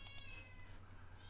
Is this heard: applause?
no